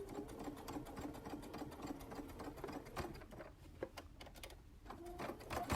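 A sewing machine stitches a fabric wristlet near a metal zipper, its needle chattering in a rapid steady run that stops briefly and starts again, close and moderately quiet.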